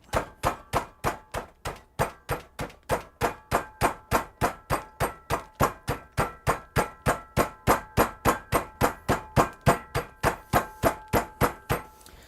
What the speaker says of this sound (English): And this takes a while, but you just basically start hammering it